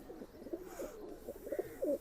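Pigeons of a flying breed coo in a low, soft, repeated murmur, several rounded calls spread through the moment, fairly quiet and close with no talking.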